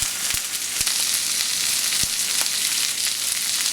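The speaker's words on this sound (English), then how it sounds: "So what we want to do here is to cook both sides of the bulalo, or the beef shank rather, for a few minutes" Beef shank (bulalo) sears in a hot pan with a loud, steady, close sizzle and crackle, broken by a few sharp pops of spitting fat, with no talking.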